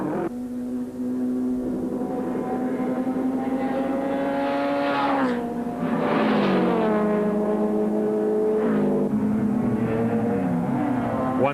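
Rally cars race flat out along the straights at the Cape Rally 2003, engines holding a steady loud drone with rising and falling pitch sweeps as they accelerate and shift, continuous and close throughout.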